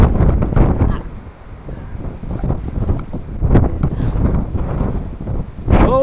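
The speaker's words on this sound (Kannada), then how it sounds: "ಗಾಳಿ ಬೀಸ್ತಿತ್ತೆ" Strong wind buffets the microphone on a rocky hilltop viewpoint near South Bangalore, a loud, uneven rumbling roar in gusts throughout, with a brief higher sound near the end.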